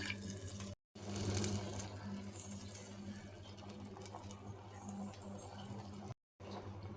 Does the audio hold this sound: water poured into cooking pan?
yes